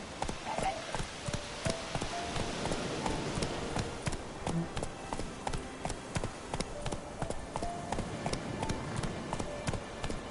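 Horse hooves gallop in the video game The Witcher 3, a steady, rapid clip-clop rhythm at close range that runs throughout, with a faint whinny early on.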